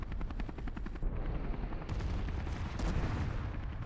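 A helicopter hovers in the Cold War setting of the video game Men of War: Assault Squad 2 while machine guns rattle in rapid bursts over a dense, rumbling battlefield background, loud and constant with no voices.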